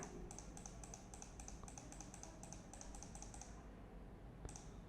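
Rapid, regular light clicks repeat from a computer during a 3ds Max selection-tool lesson, steady over a faint hiss, with a short pause and one final click near the end.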